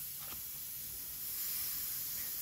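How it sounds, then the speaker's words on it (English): A beginner's airbrush spraying pink and then yellow paint from the tip, giving a steady, close hiss that swells slightly louder partway through and continues without a break. "See if we get a nice spray come out."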